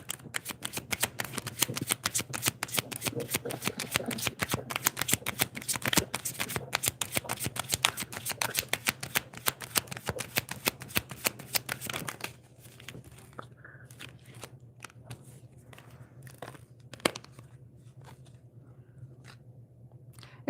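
Tarot cards shuffled by hand in a dense, continuous riffling flutter for about twelve seconds, then stopping, leaving only a few faint scattered taps and card slides in a quiet room.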